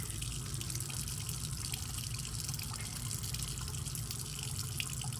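Sink faucet running steadily while hands are rinsed under the stream, a constant close splashing and gushing of water with no speech.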